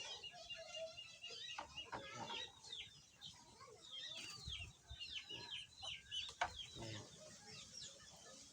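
Chickens clucking repeatedly in the distance, fairly faint, with scattered background noise and occasional louder squawks.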